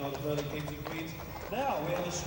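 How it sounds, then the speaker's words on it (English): A team of Shire horses clip-clops along a street during a London New Year's Day parade, hooves beating in an uneven rhythm under an announcer's talk and crowd noise. "Cyril Knowles with their team of Shire horses."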